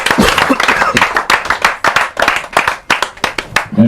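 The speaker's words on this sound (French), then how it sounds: "Applaudissez encore plus." A crowd at a press conference for a singer breaks into dense, sustained applause, with many hands clapping loudly and continuously at close range while voices mix in underneath.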